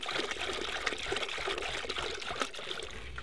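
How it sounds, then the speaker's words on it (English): Sugar is tipped into water for an open bee feeder, a steady pouring trickle with small splashy bursts throughout, close by and fairly soft. "So we just tip our sugar in."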